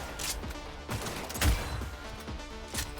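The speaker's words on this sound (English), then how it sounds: "Gunfire! Hit!" Video game gunfire crackles in dense, rapid bursts over a busy, loud game soundscape, with sharper shots standing out every second or so.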